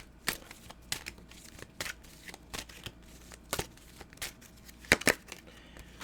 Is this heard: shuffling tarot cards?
yes